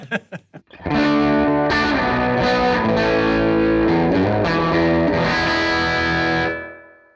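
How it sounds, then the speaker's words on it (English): An electric guitar is picked a few times, then strummed chords ring out with heavy effects, and the sound cuts off quickly with the reverb choked. "Kind of dampens the reverb, which is kind of a cool sound, actually."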